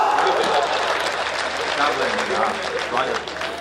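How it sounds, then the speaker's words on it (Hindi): Audience members at a Hindi comedy poetry show clap, a full burst of applause in a hall that holds steady and then thins slightly near the end, with voices mixed in. "तालियां बजाओ।"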